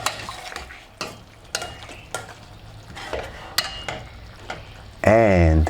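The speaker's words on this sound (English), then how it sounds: "Stir the ketchup in the stew." Spoon scraping and clanking in a pot as ketchup is stirred into simmering chicken okra stew, a series of separate clinks over a soft sizzle, ending in a louder burst of scraping and bubbling, with some talk.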